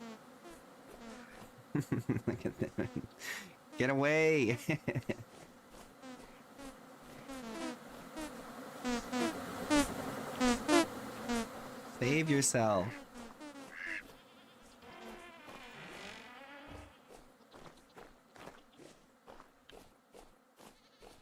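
Bees buzz in the survival game Vintage Story, with a busy insect drone rising and falling amid animal bleats and squawks, mixed with someone speaking over it.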